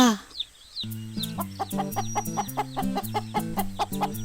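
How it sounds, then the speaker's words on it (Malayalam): Cartoon chickens cluck and chirp in quick bursts over a bouncy, rhythmic music track, close and fairly loud throughout. "ഇവിടെ ഒരുപാട് കോഴികളുണ്ടെന്ന് തോന്നുന്നു"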